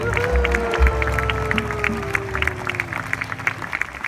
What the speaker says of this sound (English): can we get a round of applause for our fabulous Luau crew?